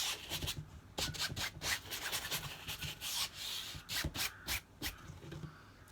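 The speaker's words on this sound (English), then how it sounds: "So that's using the Art Spectrum primer, which has a little bit of grit in it, either using the brush or using a block." A block rubbing gritty Art Spectrum primer onto a painting surface gives a quiet, repeated scratchy sanding sound in short irregular strokes, close up with no voices.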